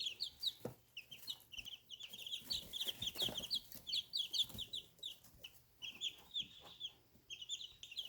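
A flock of backyard garden chickens clucking and chattering continuously, many overlapping calls at moderate distance with light outdoor background noise.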